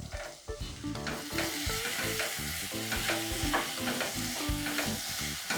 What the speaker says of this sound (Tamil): இது கொஞ்சம் நல்லா வதங்கட்டும், ஜூஸியாக அப்படியே வரும்.